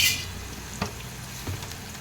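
Onion and green chilli sizzle in a pan over high heat, with two distinct scrapes of a spoon stirring them against the metal amid the steady hiss.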